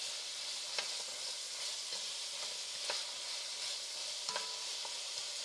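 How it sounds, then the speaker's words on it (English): Onions sauté in a pan, a soft continuous sizzle with a few light scrapes and taps of a spoon stirring them, fairly quiet and with no voices. "And we're just going to saute these until they start getting somewhat tender."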